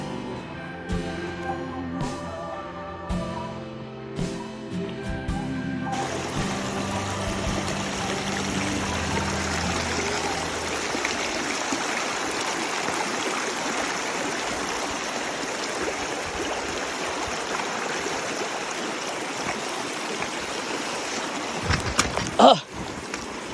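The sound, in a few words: river stream flowing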